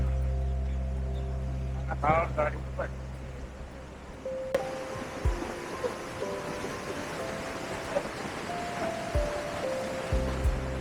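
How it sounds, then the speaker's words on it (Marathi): Water flows steadily beside a restaurant's premises in Thimphu, Bhutan, a continuous rushing wash under scattered thuds and clatter, with a brief burst of voices early on. "साईडला पाणी वाहत आहे, चांगला मस्त आवाज येत आहे"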